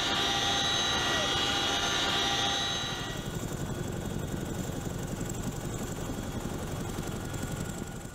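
A CH-47 Chinook twin-rotor military helicopter flies past, a loud, steady roar with a high turbine whine that fades early, leaving a rumbling, thudding rotor drone.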